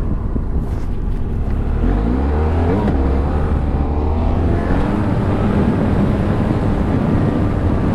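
A BMW GS motorcycle rides offroad on a training course, engine droning loud and steady with rising and falling revs as it slides and drifts, heard close with wind rush.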